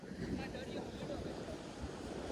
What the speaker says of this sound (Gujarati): આ છે જુદારપુરનો દરિયો